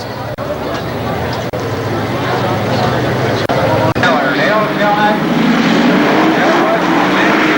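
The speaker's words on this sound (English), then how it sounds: "They pick up the throttle coming out of turn 4." Stock race cars at Columbus Motor Speedway in 1994 open the throttle out of turn four, a loud, building engine roar of the pack mixed with crowd noise and an announcer talking over it.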